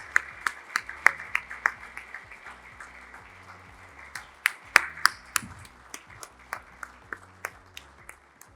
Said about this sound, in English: Could we have a thundering round of applause?